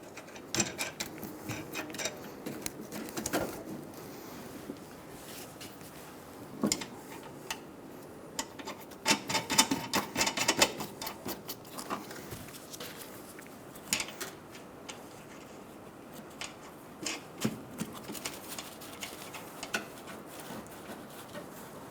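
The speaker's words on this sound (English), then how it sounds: "Snug the nuts down using a 15mm socket." A 15mm socket ratchet snugging down the front strut tower nuts on a 2007-2011 Toyota Camry, irregular bursts of quick metallic clicks with pauses between them, close and fairly quiet.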